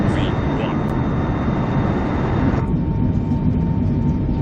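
Boeing 747 jet engines roaring steadily during a takeoff roll in a flight simulator game, a loud continuous broadband rumble that drops in brightness partway through, with speech over it.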